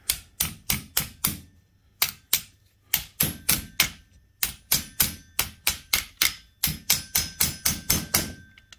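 Metal hammering while separating the piston from the connecting rod of a worn-out Ryobi grass strimmer engine, heard as crisp rapid taps in quick groups of four to six with short pauses, close and clear with no talk.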